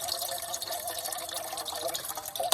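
Tap water poured into a container for heating, a steady trickling, splashing stream close by that holds its level throughout, with a slight rise in the final moment.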